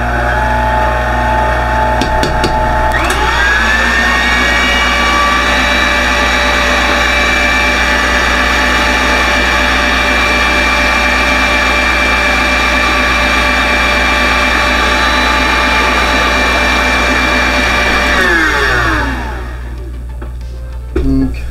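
Electric mixer beating pineapple upside-down cake batter, a loud steady whir that starts after a few seconds, runs evenly for about fifteen seconds, then winds down and stops.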